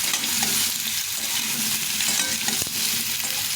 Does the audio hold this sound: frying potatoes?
yes